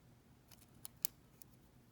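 Several sharp clipper snips trimming artificial nail tips to length during a blue crystal nail design, a few faint crisp clicks spaced apart over quiet background.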